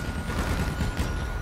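Rapid gunfire from a powerful video-game weapon rattles loudly and continuously, dense bursts filling the whole moment with no speech over it.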